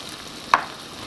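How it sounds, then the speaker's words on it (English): Mushrooms and spinach frying in a cast iron pan give a faint, steady sizzle, broken by a single sharp clink of a utensil stirring them. "we'll toss and stir the mushrooms"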